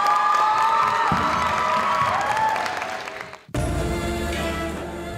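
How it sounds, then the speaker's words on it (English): An audience at a school art and language festival applauds and cheers for a student singer coming to the stage, with steady loud clapping and some whoops, cutting briefly before a fresh burst of applause. "let's give a big round of applause for her"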